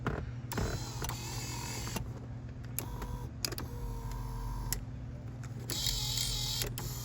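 Electric power seat motors in a Foxbody Mustang whir in several short bursts with faint creaks and clicks between runs, close by in a quiet car interior.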